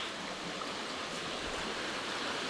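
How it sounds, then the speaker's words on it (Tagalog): Water flows continuously in a creek, a soft, steady rushing and burbling that stays even for the whole moment with no voices. "nandito naman po kami ngayon sa sapa at maliligo daw po si Tilat."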